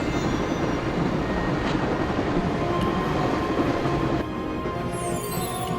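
Train riding ambience from the video game Broken Sword: a steady, loud rumble of a moving rail car with faint clicks, continuing unbroken and dropping slightly in level toward the end.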